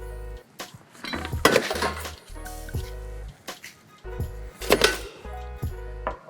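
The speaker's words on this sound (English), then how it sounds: "we're just going to add a little bit more crushed ice to give it a nice visual cone" Crushed ice is heaped onto a Mai Tai cocktail glass, giving several separate bursts of crunching, rattling clatter broken by short pauses, close and fairly loud, with no talk.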